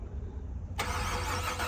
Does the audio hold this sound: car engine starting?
yes